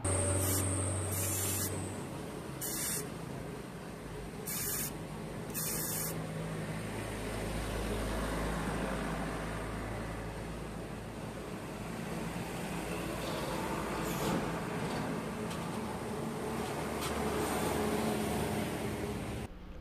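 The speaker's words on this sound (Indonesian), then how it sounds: "kita semprot dengan carb cleaner ya untuk meyakinkan bahwa seluruh saluran-saluran itu sudah terhubung ya" Carb cleaner sprays into the small air passages of a PE 28 carburetor on a motorcycle that is hard to start. A few short hissing blasts come first, then a long, steady, close spray hiss that lasts about twenty seconds.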